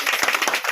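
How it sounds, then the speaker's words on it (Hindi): A brief patter of audience clapping at a gathering, a quick cluster of hand claps lasting under a second, fairly close and moderately loud. "एक बार जबरदस्त ताली बजा सकते हैं"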